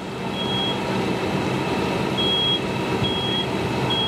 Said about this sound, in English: you can still hear the smoke alarm going off